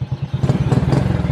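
A motorcycle with a broken starter button fires up on the starter and settles into a rapid, throbbing idle close by, short and punchy with no voices.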